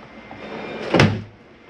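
A storage drawer under the bunk bed of a Flagstaff 29RBS RV slides open or shut, giving one short, close scraping thud against a quiet room.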